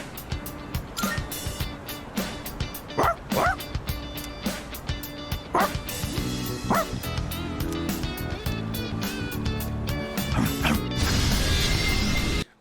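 A stray dog barks in a Persona 3 Reload game trailer, sharp repeated barks punctuating a loud, busy music and effects mix that runs throughout.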